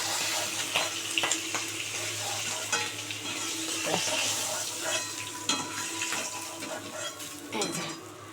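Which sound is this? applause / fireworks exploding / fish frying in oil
fish frying in oil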